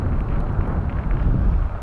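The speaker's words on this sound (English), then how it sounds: "It's still windy." Strong wind buffets the microphone during a ride on a modified Ecotric e-bike, a steady loud low roar with gusty swells throughout and no voices.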